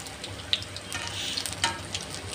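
Dahi bade lentil dumplings fry in hot oil with a steady soft sizzle and light bubbling, a few small pops and clinks of a utensil as they are turned.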